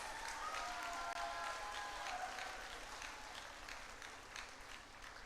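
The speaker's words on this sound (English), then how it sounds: "can you give them a big round of applause?" Audience applause fills a hall at a centenary celebration, steady and dense for about five seconds with no voices over it, easing slightly toward the end.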